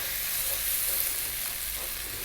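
Four beaten eggs hitting a hot pan, a bright steady hiss of frying that stays even and close for a couple of seconds with no talking.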